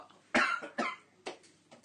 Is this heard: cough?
yes